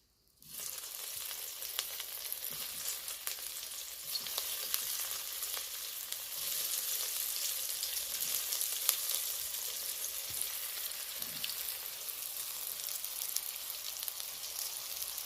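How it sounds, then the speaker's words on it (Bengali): Small batches of cube-cut homemade paneer sizzle steadily in very hot oil. The hiss is continuous and even, with faint crackles and no voices. "এবার আমি পনির ছোট ছোট করে আমি কেটে রেখেছি কিউব সাইজ করে, এগুলো অল্প অল্প করে ভেজে নেব।"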